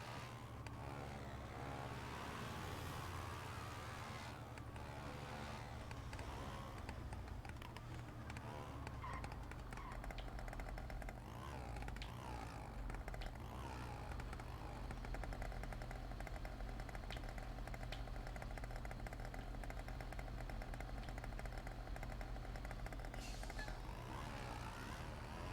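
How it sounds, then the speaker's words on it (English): Moped engine in the San Andreas video game, a continuous buzzing drone that stays steady and fairly faint for the whole stretch, with no talk over it. "I'm gonna pass him on my moped"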